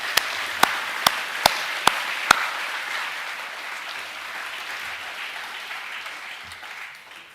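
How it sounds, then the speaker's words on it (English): Boys at a school academic awards assembly applaud steadily in a hall, a dense wash of many hands that fades slightly toward the end, with a few sharp knocks near the start. "Boys, can we give David another round of applause"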